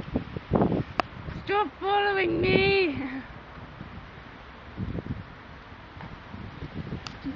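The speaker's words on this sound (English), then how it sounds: "It's windy!" Gusty wind buffets the microphone in low rumbling bursts outdoors in cold, wet weather beside a thick tree, while a person shouts and a high tonal squeal rises briefly.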